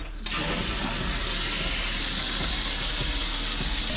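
A tap is turned on to full flow, loud rushing water starting abruptly and pouring steadily without a break.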